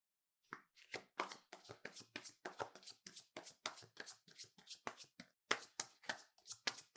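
Tarot cards being shuffled by hand, a close, crisp run of rapid riffling slaps and taps in an irregular rhythm, alone without talk.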